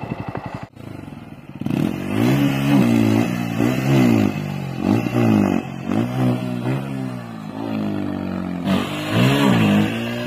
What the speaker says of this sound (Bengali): আমি আজকে ফার্স্ট মানে ড্রাইভ করছি বাজাজের N160cc। তো দেখি চালিয়ে কেমন মজা বাইকটা।